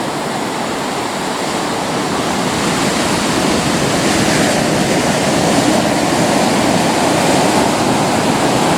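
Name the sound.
small ocean waves on a quiet beach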